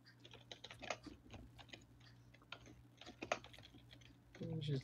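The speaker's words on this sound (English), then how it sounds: "She's typing it out." Typing on a computer keyboard during a tabletop role-playing game session, quiet, irregular clusters of clicking keystrokes, faint and close, with a low background hum.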